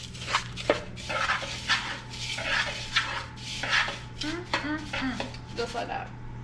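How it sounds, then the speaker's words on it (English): Food is mixed in a bowl, with quiet irregular scraping, tapping and clinking of a utensil against the dish, close and faint, and no one speaking. "Mix that up real nice."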